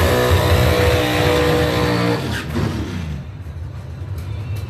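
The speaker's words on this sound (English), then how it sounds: "Performance engine." A Grand Rapids dragster's performance engine roars loudly and steadily during a drag racing time trial, then the pitch drops and the sound fades as the car pulls away.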